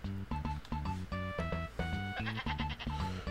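A sheep bleating in the Dora the Explorer: Barnyard Buddies PlayStation game, with repeated bleats layered over a bouncy, rhythmic game music loop, fairly close and steady throughout.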